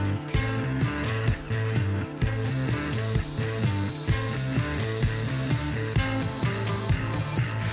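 A power drill drives screws into a wooden table top with a steady motor drone and repeated ratcheting clicks, loud and close, with brief pitch dips as each screw seats.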